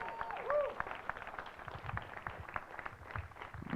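An audience at a civic event on democracy gives a brief round of applause for an introduced guest, a scattered and fairly faint patter of clapping that fades as the next introduction begins.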